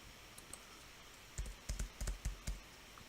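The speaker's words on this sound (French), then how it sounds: "Par exemple, je vais taper Management." Someone types a search word on a computer keyboard. After a quiet start, about eight crisp keystroke clicks come in a quick, slightly uneven burst in a hushed room.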